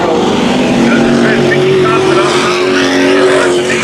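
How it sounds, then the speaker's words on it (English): Street stock race cars roar around the Havasu 95 Speedway oval in a loud, continuous engine drone with rising and falling pitch, while an announcer talks over the racing. "Good-looking field of super stock or street stocks here today at Havasu 95 Speedway"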